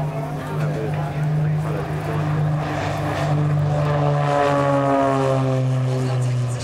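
Red Checkers propeller aircraft take off in formation at the Warbirds Over Wanaka air show, their engines droning loudly with rising, shifting pitch as they climb, while a commentator talks over the noise.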